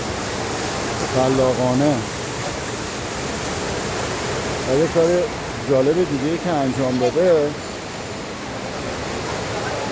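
Water flows steadily through a fountain at Iran Mall as a continuous, fairly close rushing hiss, with someone talking over it in two stretches.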